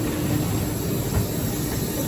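Steady low rumble inside a moving train from Paris to Zurich, constant engine and rail noise with faint rhythmic clatter, no voices.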